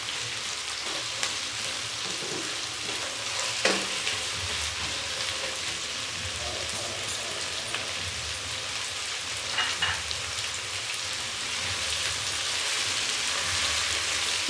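Vegetables fry for a beef biryani, giving a dense, even sizzle close by, with a few faint clinks and stirring touches and no voices.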